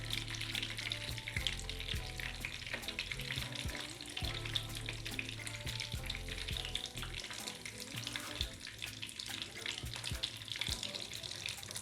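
Chicken shami kebabs frying in a pan, with a loud continuous sizzle and crackle and occasional light taps, close up, with no voices.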